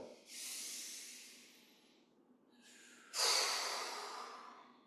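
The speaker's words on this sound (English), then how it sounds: "Inhale and exhale." Slow, deliberate breaths during a gentle exercise routine: a long airy exhale-like hiss, a pause, then a stronger rushing breath, close to the ear with no talk over it.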